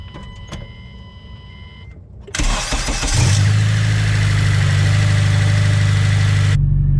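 Close-up from inside the engine bay, a car engine with VTEC cranks and catches, then settles into a loud, steady idle with a constant low hum.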